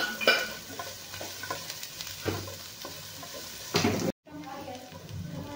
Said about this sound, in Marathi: कांद्याला पण आपल्याला गुलाबी होईपर्यंतच भाजायचा आहे